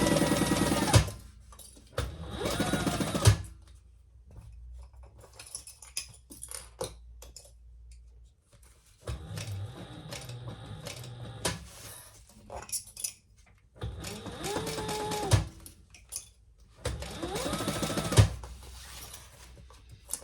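A sewing machine stitches around the seam of a modified crossbody bag in several bursts of rapid mechanical whirring, with pauses and small clicks between runs, close and moderately loud.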